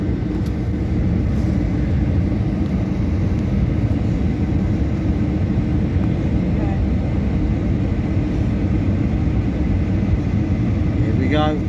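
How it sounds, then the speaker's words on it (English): Inside an airplane landing at London Gatwick, a steady, loud cabin roar of engines and airflow runs throughout, with voices talking faintly underneath. "Just about the landing Gatwick, any minute now."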